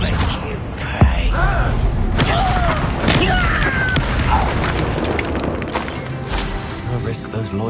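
Fire spells in Hogwarts Legacy burst with booming whooshes amid a dense, loud game battle of crackling effects, thuds and overlapping voices, with one sharp impact early on.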